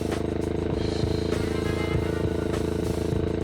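A Honda GPR250 motorcycle fitted with an SC1-R muffler idles steadily at about 3,000 RPM in an open space, giving a continuous, close, throbbing exhaust drone with light mechanical clatter throughout.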